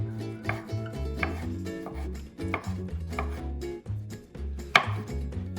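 A knife chops tomatoes on a board in a steady run of crisp, evenly spaced thuds, close and clear, with no talking.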